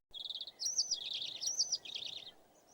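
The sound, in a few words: bird chirping in a story video game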